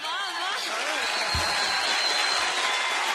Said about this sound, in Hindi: ये तालियां क्यों बज रही हैं?